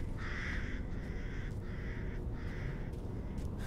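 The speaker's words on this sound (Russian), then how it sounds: "Вороны, птицы умные." Crows caw in the snowy daytime outdoors of Resident Evil Village, four harsh calls repeating at a steady pace over a constant low ambient rumble.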